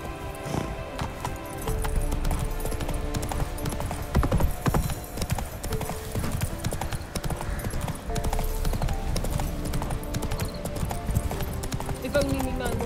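The horse Roach gallops in the video game Witcher 3 (next-gen PC update), giving a steady, rapid clip-clop of hooves throughout, with game voices and other sounds mixed in.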